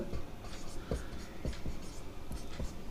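Pen scratching across paper while working out a class 10 maths partnership problem, several short scrapes and taps in an uneven rhythm, close and fairly clear over faint room noise.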